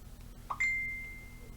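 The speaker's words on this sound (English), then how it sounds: "Oh no, someone has a Facebook notification." Facebook notification chime, a single short bright ding with a lingering tone that fades over about a second, heard faintly in a quiet room.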